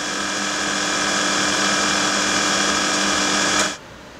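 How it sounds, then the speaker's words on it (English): FTV3 turret milling machine running under automatic longitudinal travel, a steady close mechanical whir with constant tonal hum that holds evenly for over three seconds, then cuts off abruptly. "We activate the automatic longitudinal travel to start machining."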